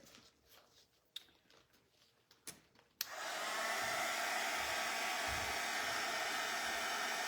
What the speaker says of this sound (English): let me take my heat tool to it just real quick